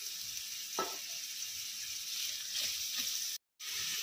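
Onions and carrots fry in a pan with a steady, close sizzle, broken by a few soft stirring scrapes and one brief moment of silence.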